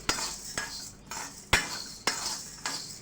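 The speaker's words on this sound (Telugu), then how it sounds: "దీంట్లో ఉన్న పచ్చిదనం పోయి కమ్మటి వాసన వచ్చేంత వరకు ఇలా వెంపుతూనే ఉండండి" A spoon stirs urad dal dry-roasting in a pan on a low flame, giving six evenly spaced, sharp metallic clinks and scrapes in a steady rhythm, close and fairly loud, with no talking.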